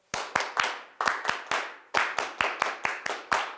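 An audience claps in unison in the 3-3-7 pattern: two groups of three sharp claps, then seven, repeated twice, crisp and loud with no voices.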